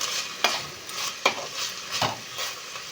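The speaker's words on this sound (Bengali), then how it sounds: "দিয়ে দেবো এর মধ্যে পেঁয়াজ কুচি।" Chopped onion fries in hot oil, giving a steady soft sizzle broken by three sharp scrapes of a stirring utensil against the pan.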